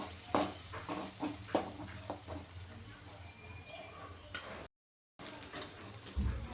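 Chopped garlic and ginger drop into hot oil for vegetable Manchurian, giving a soft, uneven sizzle with scattered stirring clatter, broken by a brief silence, while a voice talks faintly over it.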